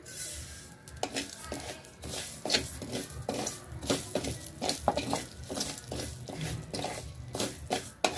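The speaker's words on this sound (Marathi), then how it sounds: "आता आपण मोहरी घालून घेऊया।" Mustard seeds tossed into a hot pan and roasting while home-made Maharashtrian masala is prepared, with quiet crackling, light sizzle and irregular popping ticks and stirring scrapes at low volume.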